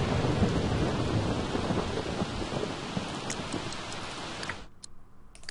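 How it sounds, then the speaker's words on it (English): A thunderstorm in The Sims 3 Pets brings heavy, loud rain hissing steadily with a deep rumble of thunder beneath, a few sharp crackles near the end, then the downpour cuts off almost silent. "she is spooked from the lightning strike"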